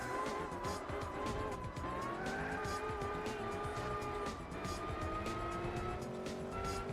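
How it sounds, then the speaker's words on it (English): Race car engines roar through braking for the final corner of a racing video game, with a Viper among them, tires squealing over a steady, fairly quiet engine drone with shifting pitch. "Here we come into the final corner. They're about even under braking."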